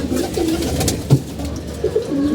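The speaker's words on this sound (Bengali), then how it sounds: "এখানে অনেক কবুতর আমরা জোড়া দিচ্ছি" Pigeons coo repeatedly inside a loft where breeding pairs are kept, several soft rolling calls in steady succession, close and clear with no talking over them.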